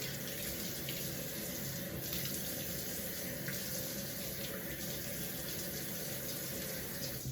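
Tap water runs in a steady close stream while facial cleansing brush attachments are rinsed under it. The rushing and splashing is continuous, with small shifts as the flow is disturbed, and no one speaks.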